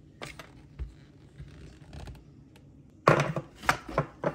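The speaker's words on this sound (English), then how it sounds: "Rough chop a few pistachios for topping also." A knife roughly chops pistachios on a board, a few sparse quiet taps followed by a louder burst of rapid chopping strokes near the end, close and otherwise quiet.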